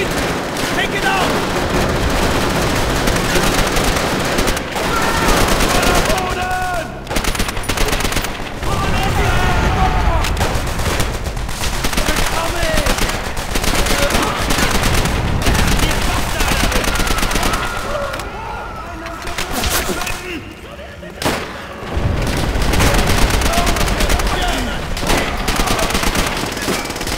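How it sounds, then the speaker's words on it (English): Machine gun fire in Call of Duty's Battle of Berlin 1945 mission, loud and nearly continuous bursts amid dense battle noise for most of the stretch, with a few brief lulls and shouted voices mixed in. "MG has the hallway covered!"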